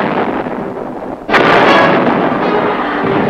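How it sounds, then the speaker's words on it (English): Loud artillery fire in a war documentary about airmobile cavalry troopers, one heavy booming blast after a roaring rumble, followed by a long dense rumbling tail. "Assisted by deadly accurate artillery support"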